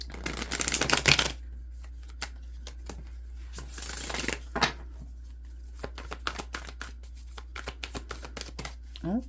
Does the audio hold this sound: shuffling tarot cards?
yes